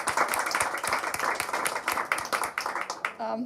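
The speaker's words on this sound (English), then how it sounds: "The applause was for you." At a conference panel session, an audience applauds in a steady, fairly dense run of clapping with crisp individual claps, and a voice begins speaking right at the end.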